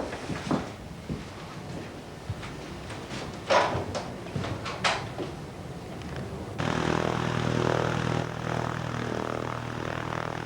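A Cessna 172 light aircraft's piston engine: a few scattered knocks and clatter give way to a sudden, steady, droning engine hum that holds evenly to the end.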